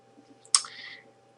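A single sharp computer mouse click sounds close and clear against a quiet background, with nothing else happening around it.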